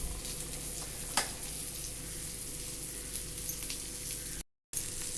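Fish fries in oil in a pan with a continuous, even sizzle and a few faint crackles. The sound cuts out for a moment near the end.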